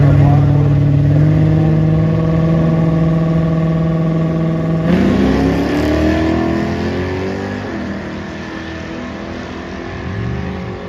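A 1968 Pontiac Firebird with a 400 engine accelerates hard. Its loud, steady drone holds a pitch, jumps up partway through and then climbs again as the car pulls away.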